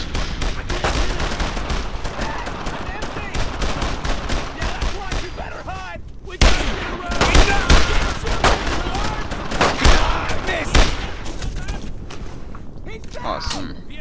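Gunfire in Brothers in Arms: Road to Hill 30, a dense run of rifle and machine-gun shots in rapid irregular bursts, loud and close, with a louder volley midway and voices shouting over the battle.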